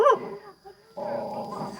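A dog barks close by, one sharp bark followed by a brief whine and then a longer, rough growling bark, loud and alone with no talk.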